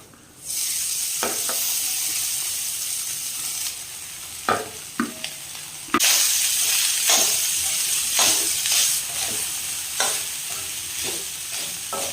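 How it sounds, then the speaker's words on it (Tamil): Cooked rice being stirred in a frying pan with turmeric and salt for lemon rice on a home stove, steady sizzling with repeated scraping and stirring strokes close by, no talking. "நல்லா கிளறிக்கலாங்க அடுப்பை சிம்மில் வச்சுக்கிட்டு நான் இப்போ வந்து லெமன் ரைஸ் வந்து செஞ்சுக்கிட்டு இருக்காங்க"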